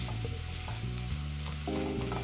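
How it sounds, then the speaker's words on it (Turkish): Bulgur is stirred and toasted in a pan, giving a dense, continuous sizzle and crackle with faint scraping, close and steady throughout. "Hafif bulgurlarını da şöyle bir çeviriyorum. Hadi kavrulsunlar."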